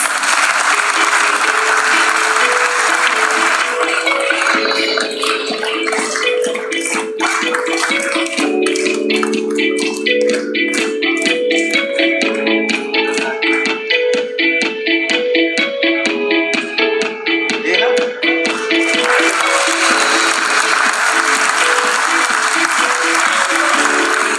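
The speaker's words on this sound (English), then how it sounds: "Let's have a huge round of applause, please." An audience at a stock exchange listing ceremony applauds loudly and steadily, a dense crowd of clapping that goes on for over twenty seconds, while music plays underneath for part of it.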